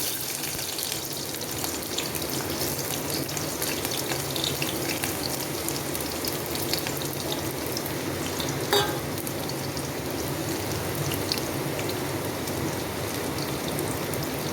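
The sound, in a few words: onions frying in pan for fish curry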